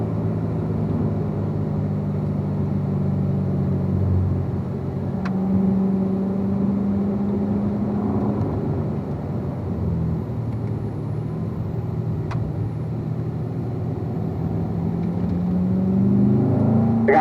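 A car rolls slowly downhill away from a racetrack, its engine a low, steady hum and whir close by, with gentle tire rumble and no voices.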